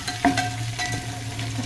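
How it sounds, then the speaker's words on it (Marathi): Curry leaves, mustard seeds, cumin and green chillies sizzle in hot oil for a dal tempering, a close, steady crackle with brief stirring scrapes. "कढीपत्ता, मोहरी आणि जिरं मस्त असं भाजून घ्यायचं। त्यात 2 मिरच्या टाकून घ्यायच्या।"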